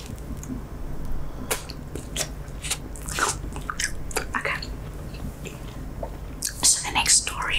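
Gum is chewed close to the mic in a soft ASMR style, with wet snapping, squishing and smacking sounds coming in irregular bursts while a voice whispers quietly throughout.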